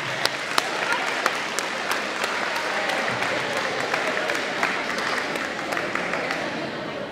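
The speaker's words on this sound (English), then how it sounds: "Give them a round of applause, huh?" Audience at a seventh-grade academic awards ceremony applauding as teachers come forward, steady crowd clapping with distinct sharp claps standing out, a few voices faintly mixed in.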